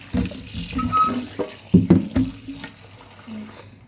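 Running tap water splashes into a sink with irregular bursts and clatter as strawberries are rinsed under the stream, fairly close.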